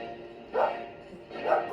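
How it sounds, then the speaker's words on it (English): Dogs barking indoors, two separate barks or yips about a second apart at moderate distance, with faint background noise between them. "My dogs are barking, guys."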